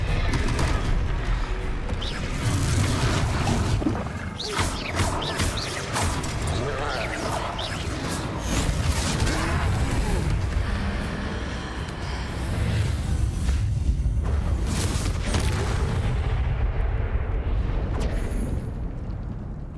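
Spell blasts and crashing impacts from a troll battle in Hogwarts Legacy, loud and dense throughout, with rumbling booms and debris under ongoing game music and character voices.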